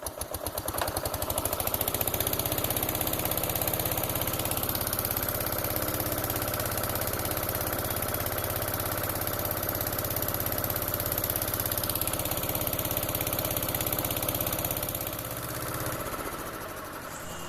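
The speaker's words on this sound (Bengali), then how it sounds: "তারপরে মেশিনটা চালায়, মেশিনটা অল্প কিছুক্ষণ চলে, আর কিছুক্ষণ চালানোর পরে আবার বন্ধ করে দেয়।" Small boat engine running steadily for a river crossing between ghats, a loud continuous mid-pitched motor drone that starts up at the beginning and eases off near the end.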